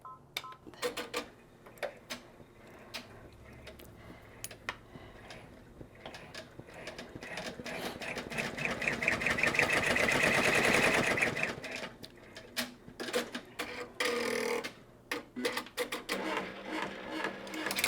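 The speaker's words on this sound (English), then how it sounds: "our next thing is going to do is a little tack down for our patch" An embroidery sewing machine stitches a tack down for a patch on an in-the-hoop bear sign, with rapid mechanical clicking and whirring that builds to a dense, steady run midway before breaking into intermittent clacks.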